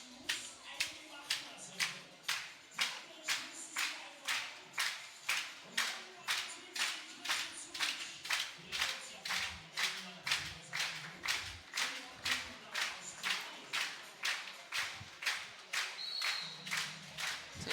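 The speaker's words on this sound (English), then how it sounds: "They are clapping their hands together with the spectators in the stadium." Cheerleaders and spectators clap in unison in a stadium at a men's fistball world championship group-stage match between Australia and Japan, a fast, steady rhythm of sharp claps heard from a moderate distance with faint crowd murmur beneath.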